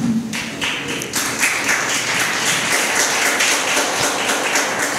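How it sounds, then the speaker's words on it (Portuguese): A church congregation claps together in dense, steady applause that starts after a brief pause and keeps going loud and even, with no voices over it. "Aplauda Jesus"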